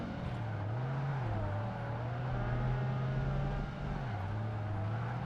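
A Ferrari engine in the racing game Project Gotham Racing 2 holds a steady, droning rev, its pitch dipping and climbing through quick gear changes, a continuous moderate hum with no voices.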